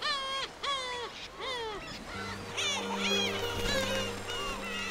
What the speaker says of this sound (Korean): 어미의 나오라는 콜이다. 이 소리를 들어야 새끼는 둥지에서 나오게 된다.